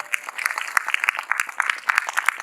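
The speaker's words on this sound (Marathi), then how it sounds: "त्यामुळे जरा जोरदार टाळ्या होऊन जाऊ द्या." An audience claps at a preschool's 13th annual day, bright, fast and uneven individual claps from a moderate crowd, close and lively throughout without talking.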